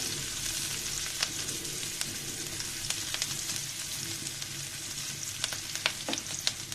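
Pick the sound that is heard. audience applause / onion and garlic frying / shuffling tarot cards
onion and garlic frying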